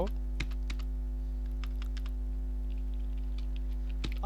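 Computer keyboard typing while entering code in a Flutter app tutorial: a few sparse, faint key clicks over a steady low hum, with no talking.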